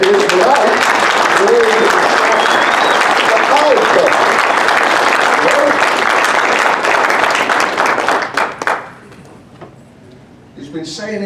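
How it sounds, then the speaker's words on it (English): A conference audience at a farriers' convention applauds loudly and continuously for about eight seconds before the clapping fades, followed by quiet room noise and a few scattered final claps. "I would like you, if this is going live, to stand up and applaud Mike Savoldi,"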